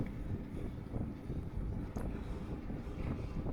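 Strong wind buffets the microphone on a beach during a 24 km running race, a constant rough roar with low rumbling gusts and no voices.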